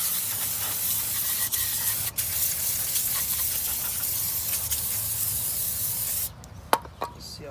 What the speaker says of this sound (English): and then I'll take some brake clean and